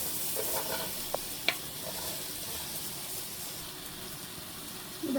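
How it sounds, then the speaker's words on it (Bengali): Onion goes into a hot pan for chola bhuna and is stirred, a steady frying hiss with a couple of sharp utensil clicks, close and fairly quiet, no talking. "প্রথমে আমি পেঁয়াজটা দিয়ে দিব।"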